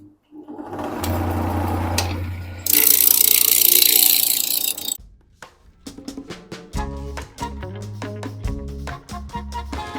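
Blue eucalyptus being roughed down on a woodturning lathe with a roughing gouge: a steady motor hum, then a harsher, hissy cutting noise for a couple of seconds, after which tonal plucked-sounding notes take over.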